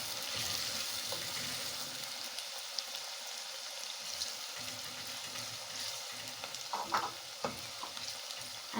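Onions and other pilau ingredients frying in a pot, a soft continuous sizzle with occasional stirring clinks, quiet and close with no talking.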